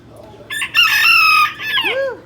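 Rooster crowing at a small animal livestock auction, one loud, close crow with a rising start, sustained middle and falling end, over a faint crowd murmur.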